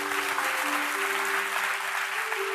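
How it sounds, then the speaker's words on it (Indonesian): A church congregation applauds during a Sunday service, a dense, steady wash of many hands clapping together at even loudness, with a faint sustained tone beneath. "Berikan tepuk tangan."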